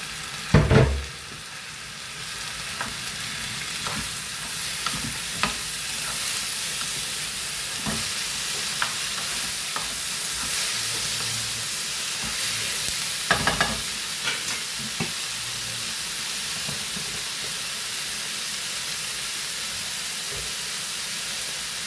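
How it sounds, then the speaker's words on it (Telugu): Coconut and tomatoes fry and get stirred in a pan for a potato egg curry, a steady sizzle and hiss with scraping spoon strokes recurring throughout, close and alone with no talking. "కొబ్బరి వేసి అలాగే టమాటాలు కూడా వేసేస్తున్నామండి."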